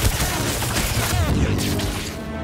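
Turret gunfire in the Spider-Man 2 video game, a dense, continuous clatter of shots and booms mixed with game effects and a voice underneath, loud and busy throughout.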